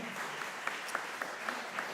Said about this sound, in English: can we have a round of applause for all the amazing participants who are here?